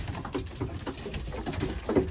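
Young racing pigeons, recently recovered from sickness, move about indoors with soft scattered cooing and rustling patter, low and steady with a few slightly louder bursts near the end.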